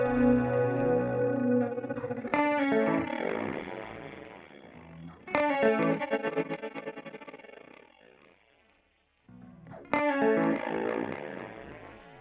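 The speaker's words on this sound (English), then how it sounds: "Okay, frequency multiplier." Synth notes through a frequency multiplier effect sound bright and buzzy with a harsh, metallic edge, three separate bursts that each decay, with a near-silent gap before the last.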